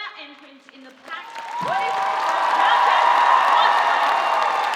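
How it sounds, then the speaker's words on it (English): An audience at a cosplay championship at PAX Australia breaks into applause and cheering for the entrants, the clapping swelling from a quiet start into loud, sustained crowd applause after a voice finishes speaking. "Can we give one last round of applause for all of our entrants"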